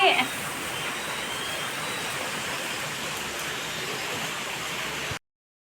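Steady, dense rain pouring down, a loud continuous hiss that holds evenly before cutting off abruptly near the end.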